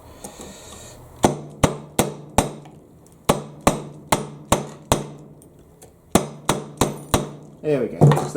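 A Sandrin TCK 2.0 tungsten carbide knife is struck over and over with a hammer on a table until the blade snaps in half, giving a dozen or so sharp, loud metallic blows in uneven bursts with short ringing tails.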